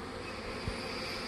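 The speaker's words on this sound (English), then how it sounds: "Swarm bees are the most productive comb drawing bees you can ever get your hands on." A honeybee swarm buzzes in a steady, dense drone that fills the short stretch, close and even with no pauses.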